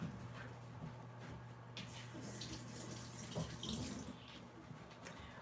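Tap water runs steadily into a sink while a piece of organic ginger is rinsed under it, a continuous close splashing wash with slight shifts as the root is moved, no speech.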